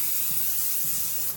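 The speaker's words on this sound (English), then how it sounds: "I'm going to spray my parchment paper." Cooking spray hisses from a can onto parchment paper laid out for shaping corn tortillas, a steady close-up spray lasting over a second and fading at the end.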